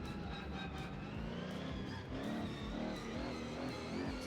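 Car engine in a drunk driving simulator video game, a loud continuous roar with rising and falling revs and harmonic whine, steady throughout with no talk.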